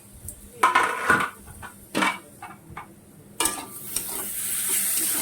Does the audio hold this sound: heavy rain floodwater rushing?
no